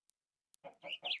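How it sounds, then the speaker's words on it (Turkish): Minecraft chickens give three quick, close clucks in a row after two tiny ticks and near silence. "Şu an iki tane tavuk oldu burada."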